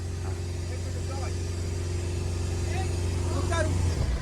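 A diesel car engine, a Brezza diesel manual lined up for a drag race against an Alcazar diesel automatic, holds a steady, loud, droning rev near the microphone while voices talk faintly in the background.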